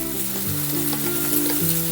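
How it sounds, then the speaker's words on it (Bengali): Large square-cut onion pieces frying lightly over medium heat in a pan, a loud, dense, continuous sizzle with a faint steady hum underneath. "এটাকে হালকা করে আমি ভেজে নেব"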